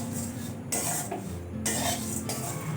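Flattened rice fries in a pan while a metal spatula stirs it, producing close scraping strokes in a few bursts over a soft sizzle, with no voices.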